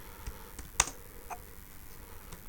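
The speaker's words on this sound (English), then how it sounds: "You have to type" A few scattered keystrokes tap on a computer keyboard while a browser search is typed in, with quiet, light clicks and one sharper press.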